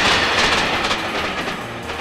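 A train rolls past on rails, loud and close, with a dense rushing roar and rhythmic clickety-clack of wheels over the track for a couple of seconds, no voices.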